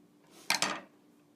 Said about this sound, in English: I would cut the end of my yarn